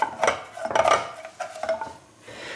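A saucepan of melting sugar for milk caramel clanks and scrapes as it is shifted and stirred, with metallic knocks in short bursts, fairly close, and no voices.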